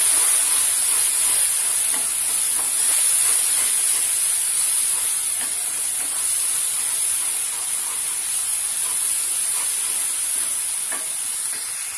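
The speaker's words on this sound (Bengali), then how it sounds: "এখন আমি এই মশলাগুলো ভালো করে কষিয়ে দিব।" Ground coriander, turmeric and chilli powder sizzle and hiss steadily in a hot pan for a dim bhuna. A continuous bright frying crackle comes up close, with faint stirring scrapes.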